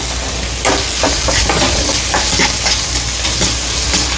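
Fenugreek and spices sauté in a pan for a dried-fish and eggplant curry. A loud, steady sizzle carries throughout, broken by regular scraping strokes of stirring up close.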